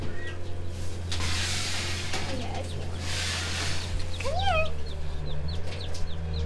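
A cream legbar and Polish frizzle mix chicken clucks in a warm coop, with a few rising calls and chirps from nearby birds over a steady low hum.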